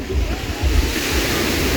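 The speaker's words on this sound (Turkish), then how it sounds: "Geldik şu an bir plaja." Waves wash steadily onto a beach with a low, continuous surf roar, while a person talks over the sound.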